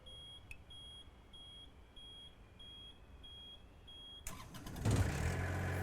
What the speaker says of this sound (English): we're going to hit engine start